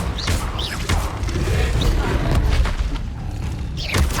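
Spell explosions and impacts in Hogwarts Legacy combat, dull booming blasts and thuds over a dense rumbling mix of game sounds, with a voice briefly heard.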